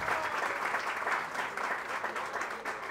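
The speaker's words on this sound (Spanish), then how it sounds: "¡Fuerte los aplausos!" Sustained applause from guests at a quinceañera party, a dense, steady wash of many hands clapping at once, moderately distant and unbroken for several seconds.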